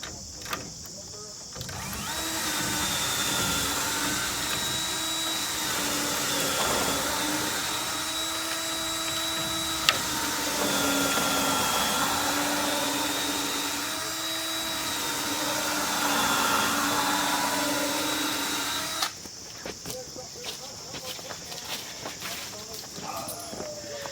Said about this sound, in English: I'll go drill the other one while you're finishing that one up.